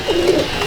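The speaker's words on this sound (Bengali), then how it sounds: "এটা নোয়ার পায়রা" A Madrasi pigeon gives a short, low, close coo on release, a single soft rolling call against steady background noise.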